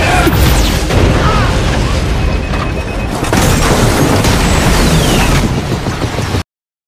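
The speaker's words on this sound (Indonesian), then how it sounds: "gelombang ledakan menghantam helikopter" A loud, sustained explosive roar as a blast wave hits a helicopter, with rumbling low end and crackling debris, filling the whole clip before cutting off abruptly.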